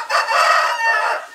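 A rooster crows once, loud and close, a drawn-out call lasting over a second with no talk.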